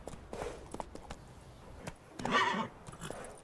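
Roach, the horse in The Witcher 3, gallops with a run of hoof clops and lets out a loud neigh midway, with softer hoofbeats before and after.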